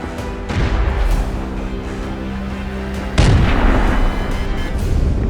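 Kamikaze drone strikes hitting two Russian combat vehicles standing side by side, heavy loud booming blasts, one at the start and a second sharper impact midway, with a rumbling aftermath.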